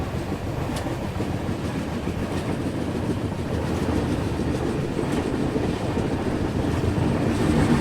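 A passenger train rolls through the winding Budhni ghat section, a continuous low rumble with faint rail clatter and wind buffeting that swells slightly toward the end.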